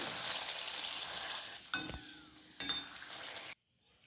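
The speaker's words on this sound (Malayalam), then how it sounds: "ഞാൻ ആദ്യം പപ്പടം കാച്ചിരിക്കട്ടെ" Papadam frying in hot oil: a loud, steady bubbling sizzle with two sharp metallic scrapes or clinks from a utensil partway through, then a sudden stop to near silence, close up, with no talking.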